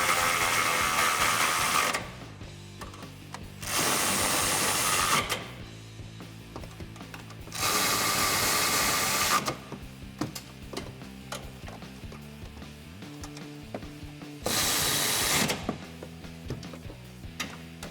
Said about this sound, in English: Now we can grab our electric ratchet, 15mm socket.